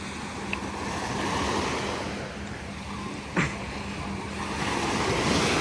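Sea waves wash continuously onto a beach, a broad, fairly loud surf roar mixed with wind buffeting the microphone and a single brief knock partway through.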